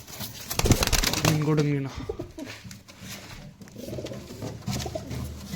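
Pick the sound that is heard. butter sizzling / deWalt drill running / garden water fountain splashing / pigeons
pigeons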